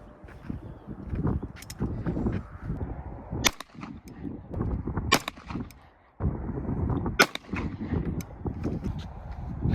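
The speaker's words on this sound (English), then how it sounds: "So I'm gonna go through and shoot one more 3-shot group with all 3 guns with that same RMR 115 grain hollow point." Sharp, close gunshot cracks ring out at irregular intervals over steady background rumble, from a Kimber 1911 pistol firing a three-shot group of RMR 115 grain hollow point rounds at a range.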